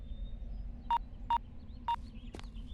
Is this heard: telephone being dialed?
yes